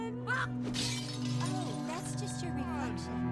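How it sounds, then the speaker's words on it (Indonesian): Household items shatter and break with sharp crashes and clinks in an animated scene from The Croods 2, set inside a modern house, heard amid a bed of music and film sound. "Mereka bahkan membuat beberapa peralatan rumah hancur berantakan."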